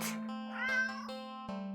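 A cat in the video game Do Not Take This Cat Home gives a single clear, rising-then-falling meow over a steady tonal hum, close and fairly soft.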